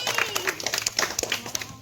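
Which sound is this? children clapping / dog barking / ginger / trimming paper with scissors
children clapping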